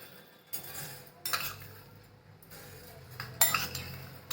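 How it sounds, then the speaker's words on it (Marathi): A flat poha-eating spoon scoops coriander seeds in a kitchen, giving four separate bursts of scraping, rattling seed-and-metal clinks against a quiet background. "त्या पोहे खायच्या चमच्याने चार चमचे धने घेते"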